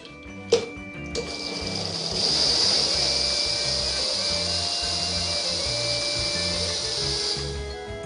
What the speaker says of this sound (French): Et je vais mixer l'ensemble.